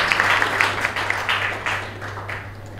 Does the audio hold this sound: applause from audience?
yes